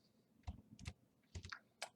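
A handful of computer keyboard keystrokes, soft and close, in two short quick bursts with a brief gap, while code is typed in Twine.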